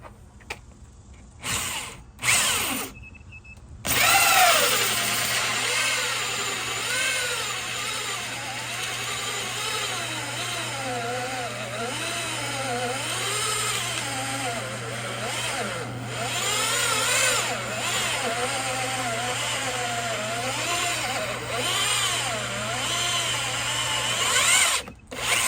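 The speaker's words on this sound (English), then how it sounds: "So I'm gonna just drill straight down." A power drill bores straight down through an Arcade1up arcade cabinet, whining loudly and continuously with a wavering pitch as the bit grinds through the wood, after a few short starts at the beginning.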